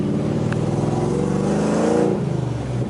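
A 2001 Pontiac Trans Am WS6 engine revs up to a moderate, steady roar at half throttle and holds there, close and loud, then eases off slightly near the end.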